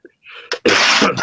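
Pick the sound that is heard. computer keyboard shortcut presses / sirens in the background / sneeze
sneeze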